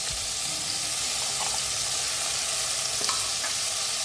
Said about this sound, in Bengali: এরপর দিয়ে দিচ্ছি এই যে আদা, রসুন, কাঁচা লঙ্কা, পেঁয়াজ পেস্টটা আমি দিয়ে দিলাম।